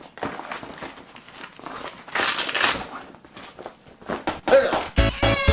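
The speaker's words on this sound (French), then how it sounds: "on va ouvrir ce sac, je vais vous déballer un petit peu ce qu'il y a dedans" A camera bag is opened and unpacked, with close crinkling, rustling and crunching handling noises in uneven bursts, a brief zipper-like rasp near the end.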